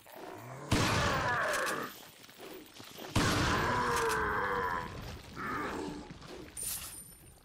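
Gunfire in Resident Evil 4 gameplay: two loud, harsh blasts of shots, each trailing into a long, rumbling decay, with quieter game noise between them.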